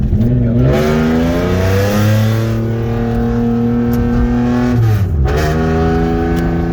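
A modified, fast and loud Toyota Camry with an undersized aluminum crank revs hard and accelerates, its engine note climbing steadily through the gears, then dropping briefly on a shift before pulling again, loud and close from inside the car.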